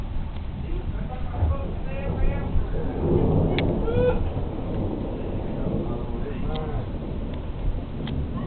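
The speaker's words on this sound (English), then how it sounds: "It's another bad thunderstorm in my area." A thunderstorm outside a house brings low, rolling thunder over a steady hiss of rain, fairly loud and continuous, with a voice faintly audible at moments.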